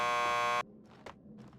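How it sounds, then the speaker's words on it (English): A loud, steady electronic door buzzer in the Max Payne 2 video game sounds once for a little over half a second, then cuts off abruptly into quiet background noise. "Just press the buzzer by the door."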